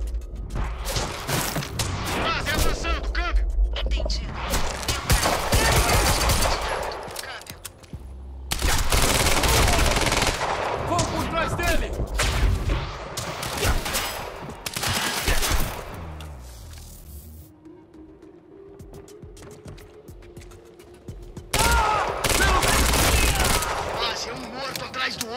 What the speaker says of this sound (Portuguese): Quem tá atirando?